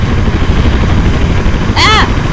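A helicopter lifts off in the video game Teardown, a loud, continuous rotor roar filling the whole stretch, with a short sweeping whine cutting in near the end.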